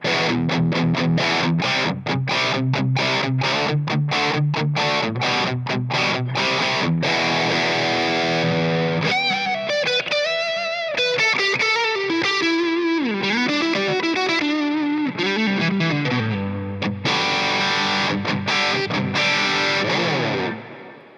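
A distorted electric guitar plays chunky chords on the bridge pickup, then bends into wavering lead notes, and the tone shifts noticeably partway through as the pickup is switched before returning to heavy strumming.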